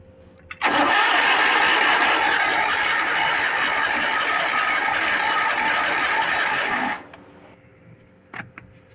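A Chevy engine that won't start cranks loudly and steadily for about six seconds, then cuts off abruptly, followed by a few faint clicks.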